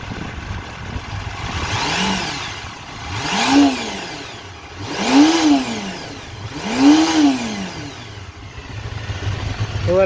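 A 1987 Honda CBR 250R Hurricane engine running with slightly out-of-adjustment carburetors, close up and loud, blipped up to high revs three times in a rising-and-falling rhythm between steadier idling.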